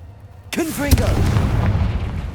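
A Confringo spell from Hogwarts Legacy goes off as a sudden loud fiery blast that booms and then rumbles away over about two seconds, with a spoken incantation just before it.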